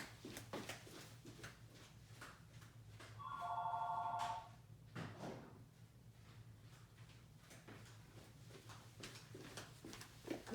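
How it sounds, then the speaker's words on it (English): An old-fashioned telephone bell rings in a short burst indoors, over a steady room hum and quiet handling noises. "And there goes my phone."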